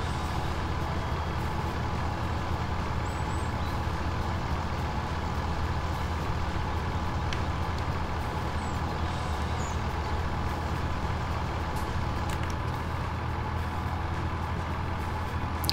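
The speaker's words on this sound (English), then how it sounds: "I love the sound file on this tractor." A tractor engine in the PC game Farming Simulator 2017 drones steadily and loudly with a constant low rumble throughout, no talking over it.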